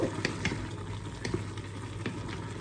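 Pumpkin and pork belly being stirred in a pot of boiling liquid, with a steady simmering bubble and soft scraping stir strokes recurring every half second or so, close and moderately quiet.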